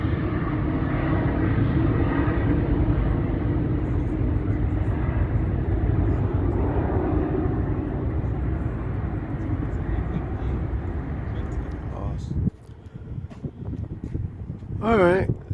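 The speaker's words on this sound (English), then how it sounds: "So there's a plane that's getting ready to land" An airliner approaches to land at London City Airport, its engine roar building loud and steady for several seconds before dropping away abruptly, with wind buffeting the microphone and a brief voice near the end.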